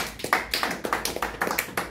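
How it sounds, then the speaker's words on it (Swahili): An audience at a church service claps in a quick, fairly even rhythm of about a dozen sharp hits over two seconds, close and moderately loud, with no one speaking. "Pigeni makofi."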